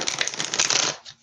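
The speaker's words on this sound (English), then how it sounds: "One more shuffle." A deck of oracle cards is shuffled once, a quick close riffle of papery flutters lasting about a second, with no talking.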